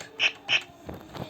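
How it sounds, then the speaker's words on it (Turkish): Electronic keyboard rattle voice: two bright, short shaking bursts close together, followed by two fainter, softer ones, all fairly quiet. "e, çıngırak."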